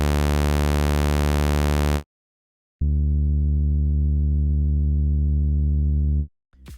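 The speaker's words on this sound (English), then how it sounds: "we need to start with a saw and add a filter." A raw saw wave from the Vital synth buzzes loud and bright, cuts off, then returns as a duller, muffled tone with a filter applied, holding steady before stopping.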